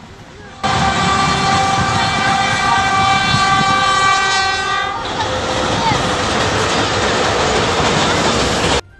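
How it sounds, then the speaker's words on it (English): A freight train with fuel tank cars rolls steadily past near an oil depot fire, with a sustained horn-like tone ringing for several seconds over the rumbling rail noise. "A local resident filmed a large train with fuel tanks driving near the open flames."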